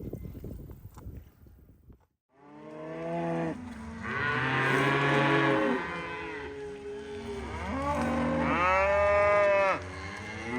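Cows on a farm let out long, loud, close moos, one drawn-out call followed by a second rising bellow, after a few seconds of soft rustling and quiet.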